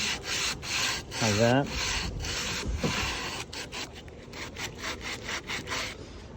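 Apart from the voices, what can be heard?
sanding block sanding a wooden window sash groove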